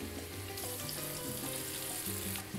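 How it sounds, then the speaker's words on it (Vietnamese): Chicken pieces deep frying in hot oil for Taiwanese-style crispy fried chicken, a steady dense sizzle and bubbling close by, continuous throughout with no voices. "Khi mình chiên lửa như vậy đó, các bạn thấy bọt nó ra đó"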